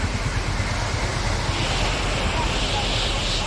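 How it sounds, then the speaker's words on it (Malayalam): Cheeyappara waterfall in Idukki, running with only modest flow after little rain, gives a steady, dense rush of falling water, loud and unbroken throughout, with some wind buffeting the microphone. "ഇത് നമ്മുടെ ചീയപ്പാറ വെള്ളച്ചാട്ടമാണ്"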